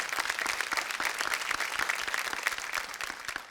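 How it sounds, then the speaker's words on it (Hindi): An audience at a screening of the film Tigdam applauds, a dense, steady wash of clapping that carries evenly through the whole stretch without pause. "एक बार तिगड़म के लिए जोरदार तालियां प्लीज"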